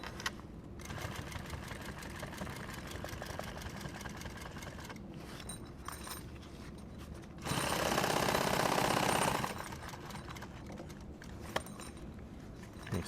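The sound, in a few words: sewing machine stitching nylon tactical gear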